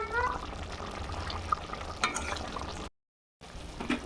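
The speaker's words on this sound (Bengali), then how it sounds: "ঝোল ফুটছে, এবার ভেজে রাখা পটলগুলো দিয়ে দিব।" Fried pointed gourd pieces going into boiling gravy in a pan, giving a steady close sizzle and stirring sounds, broken by a brief silent gap before the bubbling resumes.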